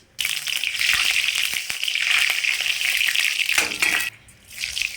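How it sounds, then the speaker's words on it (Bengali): Mustard seeds spit and crackle in hot mustard oil in a wok, a dense, close, steady sizzle that runs unbroken for several seconds, then dips briefly near the end before picking up again. "কড়াইয়ে সর্ষের তেল দেওয়া হয়েছে আর একটু সামান্য সর্ষে ফোড়ন দেওয়া"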